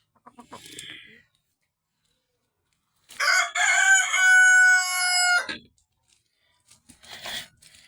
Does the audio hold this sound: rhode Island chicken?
yes